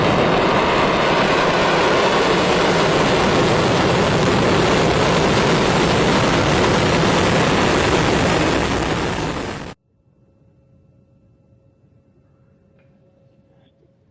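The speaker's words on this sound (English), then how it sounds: "Falcon 9 has successfully lifted off from pad 40" SpaceX Falcon 9 rocket climbing after liftoff from pad 40 at Cape Canaveral Space Force Station, a loud continuous broadband roar that cuts off abruptly near the end, leaving faint quiet background.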